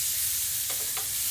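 Onions sizzle on a grill beside a steak, a steady close hiss broken by two short scraping stirs near the end.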